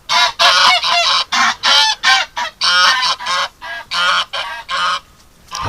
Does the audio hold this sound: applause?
no